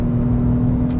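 A 2021 Toyota Yaris 1.0 VVT-i engine drones steadily under load, struggling to accelerate, a constant hum with little rise in pitch, heard from inside the car.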